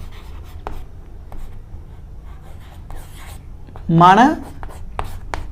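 A teacher writes on a board while working a Class 10 math problem, with short scratchy strokes and taps under his ongoing speech.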